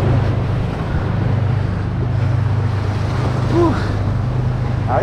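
Rough ocean waves roll in at a rocky shore-casting spot, a continuous loud surf wash with heavy wind buffeting the microphone throughout.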